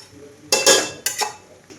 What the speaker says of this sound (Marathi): हे चिकन ज्या भांड्यात ठेवलं होतं त्यानं त्यातच पाणी घेतलेलं आहे आता ते ओतून घेते